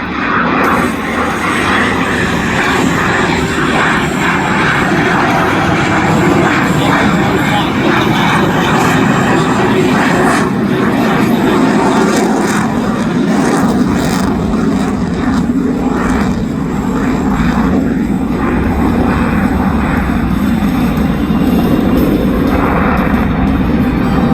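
An RAAF F/A-18 Hornet fighter jet roars loudly and continuously overhead for a long stretch during an air show flying display, with a voice talking faintly beneath the engine noise.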